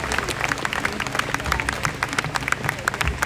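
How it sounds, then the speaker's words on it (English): A crowd at a Justice for Chris protest applauds in dense, continuous clapping with close, crisp individual claps, and a few voices mixed in. "Give them a round of applause."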